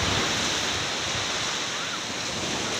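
Ocean waves surge onto a beach on a windy morning, a loud, continuous roar of surf mixed with wind rushing across the microphone.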